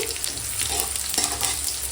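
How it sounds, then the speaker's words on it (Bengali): Dried chilli, bay leaf, whole cumin and panch phoron fry in hot oil as a tempering, giving a steady, moderately loud sizzle with light stirring scrapes and no talk. "ফোড়নটা একটু সুন্দর করে ভেজে নিচ্ছি"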